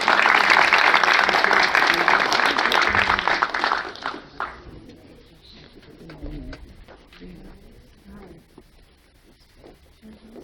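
An audience at an education seminar applauds to welcome a speaker: several seconds of loud, dense clapping that fades out, followed by scattered claps, room noise and faint talk.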